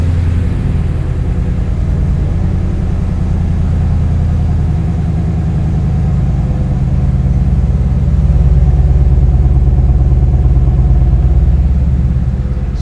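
A 2015 Ford Mustang GT's engine rumbles close by, a deep steady idle with a throbbing low pulse that swells slightly louder in the later seconds, no talking.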